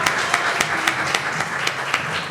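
An audience at a literary panel discussion claps in a brief burst, a fairly close patter of individual hand claps that holds steady throughout, with no voices.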